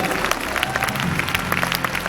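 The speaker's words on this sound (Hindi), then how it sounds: "इन लोगों के लिए एक बार जोरदार तालियां हो जाए।" Loud audience applause at an annual company event, a dense, steady roar of clapping from a large crowd with crowd noise and voices mixed underneath.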